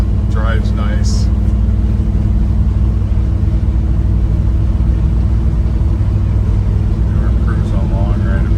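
A 1972 Chevrolet C10 Custom Deluxe truck cruising steadily at about 60, with a low, even engine and road rumble throughout, and a voice briefly speaking over it near the start and end.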